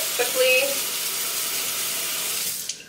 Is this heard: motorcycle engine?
no